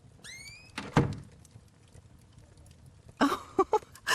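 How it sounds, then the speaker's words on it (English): A door opens in the PC video game Call of the Elder Gods, a heavy thunk followed later by a few clattering knocks, with a rising synthetic tone at the start. "Let me open the door and..."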